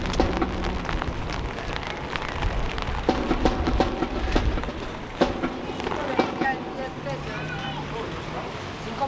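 Steady rain falls at night in San Luis Potosí, Mexico, a dense hiss with scattered drips close by, while people talk over it.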